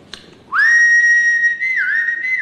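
Person whistling to call someone in a French housing estate, one loud sustained high whistle that holds steady, then dips and rises near the end, close and alone after a brief click.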